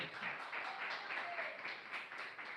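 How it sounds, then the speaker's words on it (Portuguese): A church congregation applauding for Jesus of Nazareth, a soft, steady patter of many hands clapping together, fairly distant and even throughout. "Uma salva de palmas para Jesus de Nazaré."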